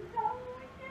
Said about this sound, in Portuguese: vamos acompanhar essa gatinha